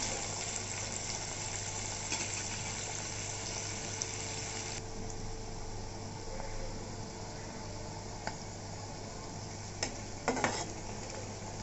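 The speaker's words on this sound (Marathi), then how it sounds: "कांदा चांगला लवकर भाजायचा।" Onion roasts in a pan for chole, giving a soft continuous sizzle with faint stirring scrapes and a few light clicks, fairly quiet and close, with no voices.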